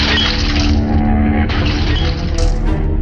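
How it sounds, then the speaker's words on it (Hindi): Two glass picture frames crash to the ground after falling from two storeys, producing a loud burst of shattering glass with tinkling shards scattering and a second crash near the end. "दोनों फ्रेम जमीन पर गिरे और कांच टूटने की आवाज आई"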